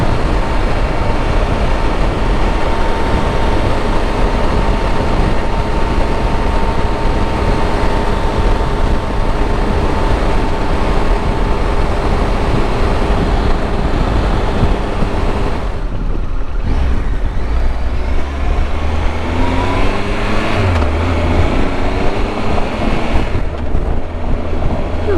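Riding over loose gravel produces a constant, close rumble and crunch of wind and road noise that runs steadily throughout, with no talk.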